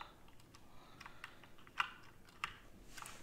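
Noisy computer keyboard typed on during a Farming Simulator 19 session, scattered quick clicks with two sharper louder strikes, close by and without speech.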